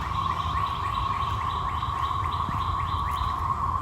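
Birds chirping near a garden greenhouse, a steady series of repeated short tweets at a moderate distance over a constant hum and outdoor ambience.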